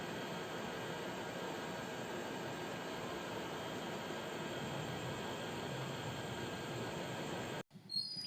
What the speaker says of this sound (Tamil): 3D பென் யூஸ் பண்ணும்போது இந்த மாதிரியான கிருன்னு உள்ள சவுண்டு வந்துட்டு நமக்கு கேட்கும்.